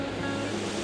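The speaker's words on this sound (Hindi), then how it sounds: "लो भाई ठंडा ठंडा वाटरफॉल का पानी।" Cold waterfall water at Barshangarh Waterfall near Sainj in Himachal, a steady broadband rushing roar, moderately loud and continuous, with no voices.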